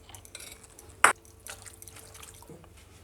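Warm homemade cream from fresh milk is poured over gram flour in a bowl, making one short, bright liquid splash followed by faint drips in a quiet kitchen.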